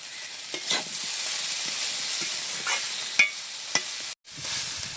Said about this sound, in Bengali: তরকারিতে একটু ভালো করে কষে নিচ্ছি